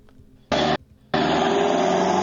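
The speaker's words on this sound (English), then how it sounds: "That's the automobile." A car sound effect from an editing library plays as two loud, steady blocks of broadband noise: a short burst of about a quarter second, a brief gap, then a longer sustained roar that runs to the end.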